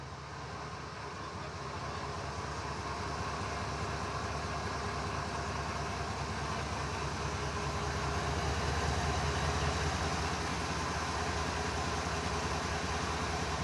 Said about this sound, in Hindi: पीपीपी मोड पे बना है और इंजन हम कह सकते हैं स्टार्ट हो रहा है। इसमें देखिए आवाज़ की अगर हम बात करें, आवाज़ सुनिए, इसकी आवाज़ सुनिए